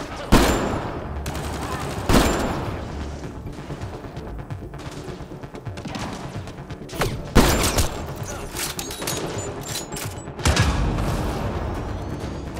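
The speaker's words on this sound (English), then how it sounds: "Actually, sniper rifle probably best from here." Sniper rifle and other gunfire in the shooter game Mass Effect Andromeda: loud, sharp shots spaced a few seconds apart over a layer of combat noise.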